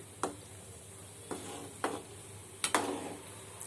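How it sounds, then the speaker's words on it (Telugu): Jun burelu fritters frying on a low flame in a pan give a faint, steady sizzle, broken by a few sharp clinks and scrapes as they are moved about. "ఇలా సిమ్లోనే పెట్టుకొని సగన వేయించుకోవాలి."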